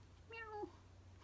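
A single short cat meow, fairly close and clear, rising then falling, over a quiet low hum.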